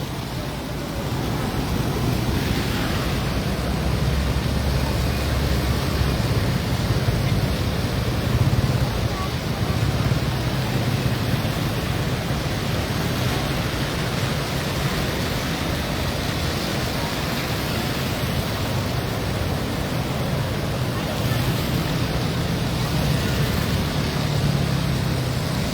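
Floodwater rushes through the Pasig floodway during a typhoon, a loud, steady, roaring wash that fills the whole stretch without pause, with someone speaking over it.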